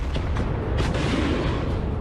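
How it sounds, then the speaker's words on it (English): A Bradley fighting vehicle launching a TOW missile in combat, heard as a dense, continuous roaring blast with a sharper burst partway through, loud and close with no voices. "The Bradley launches the second missile."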